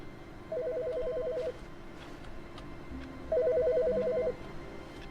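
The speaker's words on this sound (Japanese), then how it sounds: "電話鳴ったのなんて初めてだぞ。" A telephone rings in the video game The Stanley Parable: Ultra Deluxe, two separate trilling electronic rings about three seconds apart over a quiet ambient background.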